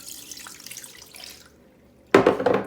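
Chicken stock and water are poured into a pot: a soft trickle fades out, a brief quiet follows, then a louder close splash of liquid.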